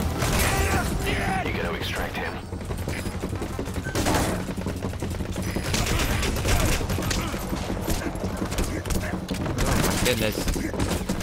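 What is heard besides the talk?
gunfire in Metal Gear Solid V video game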